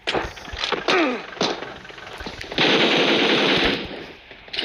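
An M4 rifle fires in BGMI: a few sharp single reports come first, then a loud, sustained automatic burst rattles on for nearly two seconds before cutting off.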